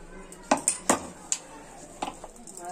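Spoon clinking against a bowl while mixing mashed potato sandwich stuffing with chaat masala, chopped green chillies and coriander leaves: several sharp, close metallic taps spaced irregularly over a quiet background.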